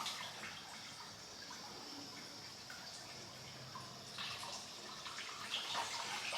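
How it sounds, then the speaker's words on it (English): Coolant pours out of a hole in the engine block of a VW T5 Transporter with a 1.9 TDI engine, a soft, steady splashing trickle that is faint and continuous, with no voices. "we've got coolant coming out of the hole in the block as well"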